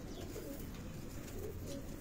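Pigeons on a rooftop loft coo in a low, steady murmur, with faint chirps over a constant background hum and no talk.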